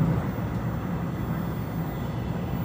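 Inside a commuter train at Yeoncheon station in Korea, a steady, loud rumble of the moving carriage fills the space, continuous broadband rolling noise without voices.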